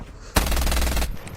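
Sustained automatic gunfire in the mobile shooter Call of Duty Mobile, a loud, dense burst of rapid shots lasting under a second before cutting off.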